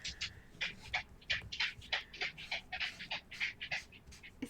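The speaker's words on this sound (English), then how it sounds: "It's just one of the dogs walking. This new dog, he does not lift his feet." A dog walks across the floor without lifting its feet, its paws scuffing and shuffling in a quick irregular rhythm of soft brushing bursts, close by and moderately loud, with no voices.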